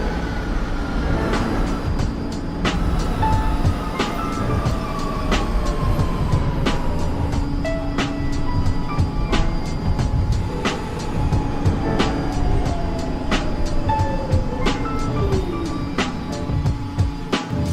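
Coney Island-bound New York subway Q local train running, with a steady rumble, rhythmic wheel clicks over rail joints and falling tonal whines from the motors, heard from inside the car.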